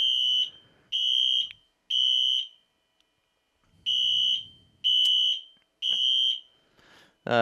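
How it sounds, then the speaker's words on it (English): A ceiling smoke detector set off by cigarette smoke blown into it sounds its piercing, high-pitched alarm in repeated half-second beeps, with brief pauses between groups and a short buzzing rattle at the end. "How to take a drag out of a cigarette and then blow it into a fire alarm."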